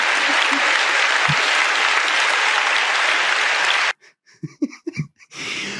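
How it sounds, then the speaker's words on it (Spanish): A political rally crowd gives a loud, dense ovation of sustained clapping for about four seconds, then it breaks off abruptly into brief scattered sounds and a renewed swell of crowd noise. "Ovación, la charocracia ahí reunida, escuchando a la Charo Suprema"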